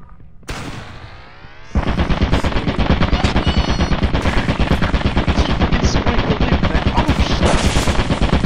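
Video game machine-gun fire opens after a brief lull and runs as a fast, unbroken string of loud, close rapid shots, with no talk over it.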